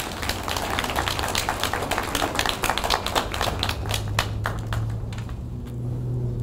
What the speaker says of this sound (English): could we welcome him with a clap as we warm up as well?